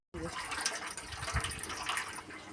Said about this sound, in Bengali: এখন আমাকে বাসন মাজতে হবে, জলে সব ভিজিয়ে দিয়েছি